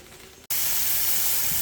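Beans drop into hot oil, setting off a loud, steady frying sizzle that continues without a break after a short quiet moment.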